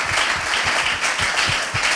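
A church congregation applauds with rapid, steady clapping that is loud and continuous throughout, with no talk over it.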